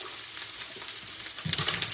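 Onion sizzling and frying in olive oil in a pan, a steady close hiss throughout with a brief stirring clatter toward the end.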